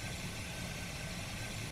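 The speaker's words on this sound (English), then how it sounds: "this is what the engine would sound like when you had just started" The Big Boy steam locomotive sits just started in Train Sim Classic, a steady low idling rumble with faint hiss, continuous and even, cutting off near the end.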